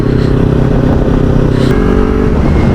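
A Kawasaki Ninja 300 BS6 engine drones steadily, loud and close, with a sustained even tone and little sign of climbing revs, under wind rush from riding.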